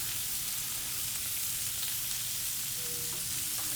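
Bacon-wrapped Baguio beans and sitaw fry in a hot, smoking pan, giving a steady, close, full-band sizzle that holds even throughout with a few faint clicks and no talking.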